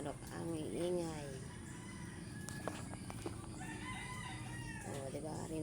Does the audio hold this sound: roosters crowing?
yes